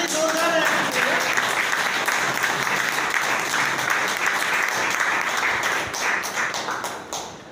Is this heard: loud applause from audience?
yes